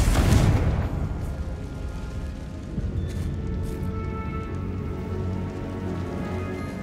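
Confringo fire spell explosion in Hogwarts Legacy, a loud burst at the very start that fades into a lingering crackling, rain-like rumble, with no talking.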